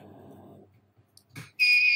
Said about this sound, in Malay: Dan buzzer kita berbunyi